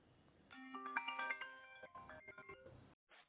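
A phone rings with an incoming automated test call, a bright melodic ringtone of chiming tones that plays for about two and a half seconds, then cuts off before a short final chirp.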